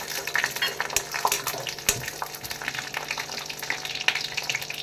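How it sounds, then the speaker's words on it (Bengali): Dry fruits frying in a pan make a steady close sizzle with scattered crackles and stirring scrapes throughout, fairly loud with no talking. "ড্রাই ফ্রুটস গুলো একটুখানি ভেজে নিই।"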